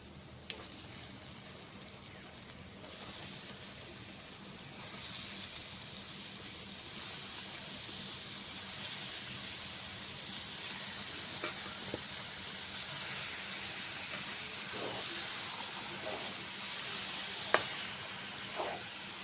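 Chicken marinated in lemon juice and garlic hits hot spiced oil for chicken kosha, giving a steady hissing sizzle that runs on with a few light clinks and spatula taps near the end.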